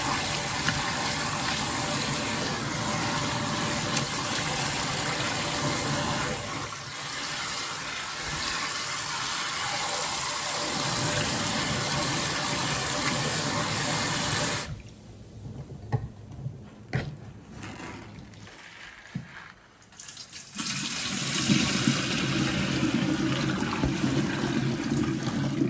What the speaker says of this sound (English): So now that we've rinsed the hair